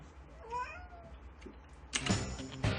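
A cat meows twice in rising, wavering cries, fairly close, followed by rustling and clattering noises.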